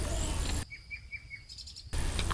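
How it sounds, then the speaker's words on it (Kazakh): Birds sing in spring, several clear, high chirps repeating in a quick rhythm between bursts of louder background sound, with insect-like trilling underneath. "құстар сайрайды"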